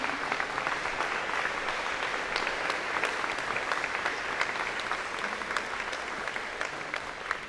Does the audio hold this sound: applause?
yes